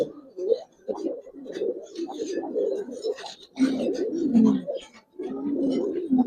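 Giribaz pigeons coo repeatedly in a loft, close and clear, the soft throaty calls coming in bursts with brief pauses and faint voices in the background.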